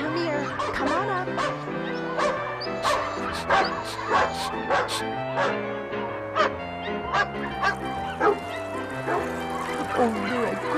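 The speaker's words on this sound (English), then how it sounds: "Oh, you're a good dog." Electronic barking and yipping from a Lemax Barkley-Dog Hotel & Spa holiday village piece, loud chirpy barks repeating over a bright jingly tune, with a recorded voice talking between them.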